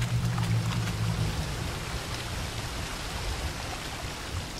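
A waterfall in The Witcher 3 rushes as a dense, steady broadband wash of falling water, with a low game hum that fades early on and no voices.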